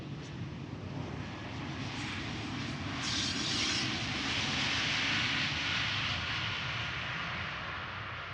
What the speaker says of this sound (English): the E2 taking off right in front of me over here